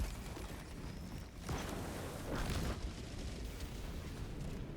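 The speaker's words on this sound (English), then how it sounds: "Gonna get strafing run called down right here" Strafing run explosions in Helldivers 2 gameplay, a faint, rumbling series of booms and bursts over a continuous low roar, with a few stronger blasts spaced a second or so apart.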